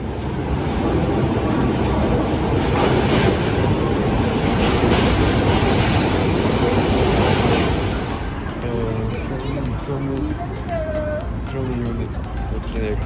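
Metro train arriving at a station: a loud, sustained rumble and rattle of the cars rolling in, then easing off as squealing brake tones rise near the end.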